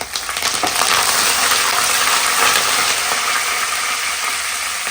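Curry leaves dropped into hot oil, a loud close crackle and spatter that stays steady and dense throughout, with no talking.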